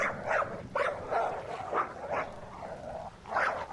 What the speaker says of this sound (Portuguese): E foi quando eles escutaram uns latidos ao longe.